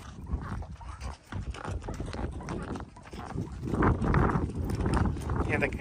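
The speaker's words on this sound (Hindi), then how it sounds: "ये देखिए हमारा घोड़ा" A horse walks near the Giza pyramids, its hooves clip-clopping in a steady, close rhythm while people talk over the noise.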